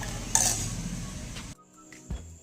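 Milk is stirred into a beaten sugar mixture in a bowl, a short busy scraping and swishing that fills the first part, then drops to near silence before a soft knock.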